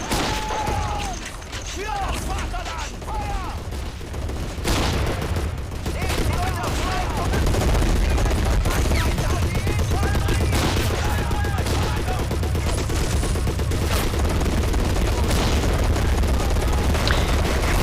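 Battle in the Men of War video game during an assault on a bridge: constant machine-gun fire streams in dense bursts, broken by sharp booms and clanking mechanisms, loud and unbroken throughout, with a voice underneath.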